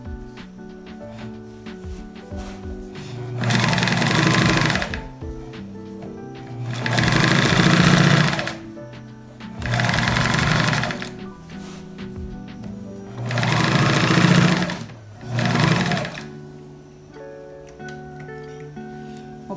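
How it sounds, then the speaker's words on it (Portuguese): A sewing machine topstitches along the edge of a shirt seam, running in four or five steady bursts of a few seconds each with brief pauses between, close and clear with no talking. "vou passar uma costura bem aqui na bordinha"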